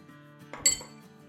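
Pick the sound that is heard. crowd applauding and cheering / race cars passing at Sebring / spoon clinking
spoon clinking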